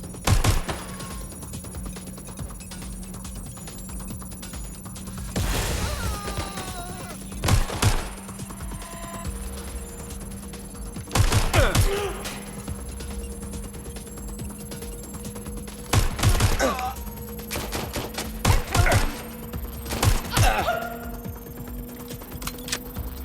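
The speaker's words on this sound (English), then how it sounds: "Shots fired." Gunfire in Watch Dogs: Legion arrives as several short bursts of sharp, loud shots spread through the scene, separated by quieter stretches of ambient game noise and a steady background hum.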